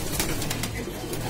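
Pigeons kept for sale at a market coo in low, soft repeated calls beneath constant noisy crowd and background chatter.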